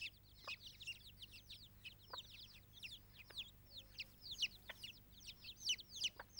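Guinea fowl chicks and chickens on a farm make rapid, high peeping chirps that repeat densely and close, with occasional soft clucks underneath and a faint steady hum.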